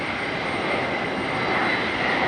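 A JetBlue Airbus A220 jet airliner at Raleigh-Durham airport produces a steady, loud engine roar with a high whine running through it, unbroken and with no voices.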